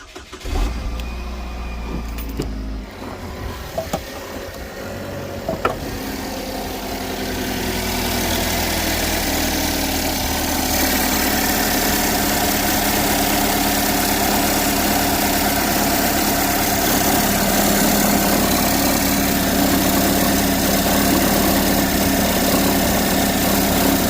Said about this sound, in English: First is a noise on a cold startup. We got that noise, vibrating noise.